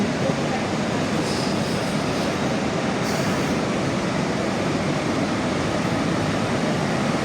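A Koleje Śląskie regional train at Gliwice railway station gives off a steady, loud rolling rumble with faint high squeals of wheels or brakes, filling the whole stretch without pause.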